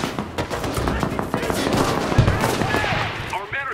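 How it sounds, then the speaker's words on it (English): Artillery support fire in the World War II shooter Enlisted, with repeated sharp blasts and rattling gunfire bursts over a constant battle din, some hits close and loud, others more distant. "artillery support!"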